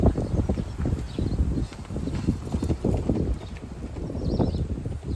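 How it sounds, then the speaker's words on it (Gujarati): A mare trots around a dusty ring, her hooves clip-clopping in a steady, rapid rhythm against a constant rough background of wind and outdoor noise. "મસ્તી એ ચડી ઘોડી."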